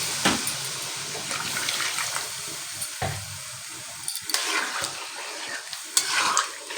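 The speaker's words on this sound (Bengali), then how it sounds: "দিয়ে এর মধ্যে আমি এবারে জল দিয়ে দিচ্ছি।" Water pours into a pot of cooked mutton curry, making a continuous splashing, bubbling rush broken by a few sharper knocks and stirring sounds.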